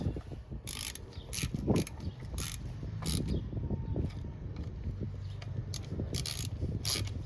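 A ratchet tightens 7/16 bolts on the carburetor of a 20 hp Briggs and Stratton riding lawnmower, giving repeated quick clicking strokes in uneven bursts, close up with no talking.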